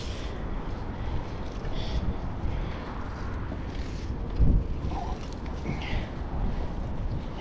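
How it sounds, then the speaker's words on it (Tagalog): Gusty wind roars across the microphone while fishing outdoors, a continuous low rumble with a few louder thumps, no voices. "Masyadong malakas ang hangin."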